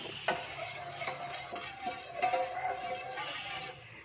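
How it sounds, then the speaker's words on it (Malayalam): A spoon stirs an eggless coffee pudding mixture set with gelatin, giving soft scraping swirls and a few light clinks against the container, close up and with no talk. "ജസ്റ്റ് ഒന്ന് നന്നായിട്ടൊന്ന് ഇളക്കി കൊടുക്കുക."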